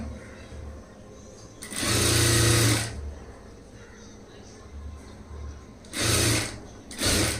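A domestic sewing machine stitching a front-gap blouse runs in three loud bursts of fast rattling stitches, the first about a second long and the later two shorter, separated by quieter pauses with light handling noise.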